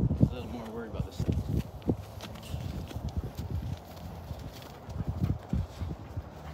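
Hooves of a foal clip-clopping on the ground in uneven steps as it is caught and haltered, fairly close, with people talking over the movement.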